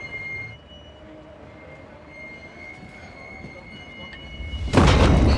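A freight train with wagons rumbles and rolls steadily with a faint high squeal, ending in a sudden loud burst of broadband noise.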